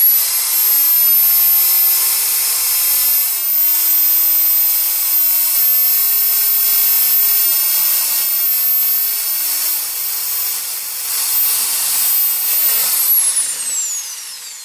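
Triton corded electric screwdriver with a 7 mm wood bit drilling a hole, a loud close high-pitched motor whine held steady for about thirteen seconds before winding down.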